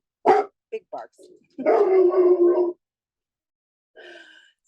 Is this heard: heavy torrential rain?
no